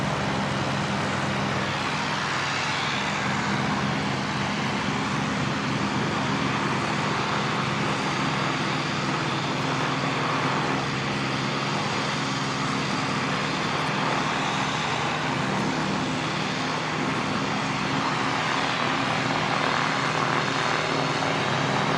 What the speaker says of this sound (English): Six small planes here idling at the moment.